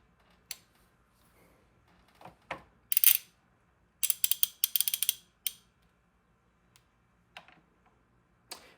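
Ratchet wrench clicking while staking an AR-15 gas key, with scattered bursts of rapid pawl clicks and short isolated clicks close to the mic, separated by quiet pauses.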